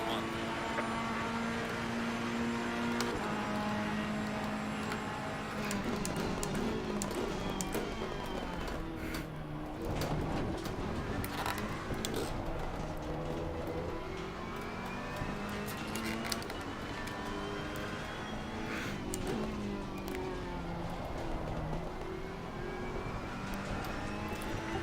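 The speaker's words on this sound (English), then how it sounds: "Listen to the car heading sector 1." A race car in Assetto Corsa Competizione lapping Indianapolis during a 24-hour event on a greasy track: the engine note climbs and drops repeatedly through gear changes, loud and continuous throughout.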